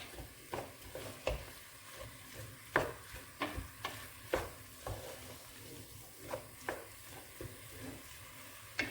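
Food browning in a frying pan, faint and close, with a soft sizzle broken by repeated light clicks and scrapes from stirring at an uneven pace.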